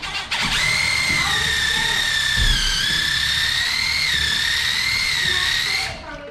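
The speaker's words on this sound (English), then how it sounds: "going to drill this hole" A power drill boring a hole, a steady high whine for about five seconds with slight pitch dips under load, loud and close, then spinning down; faint voices sit in the background.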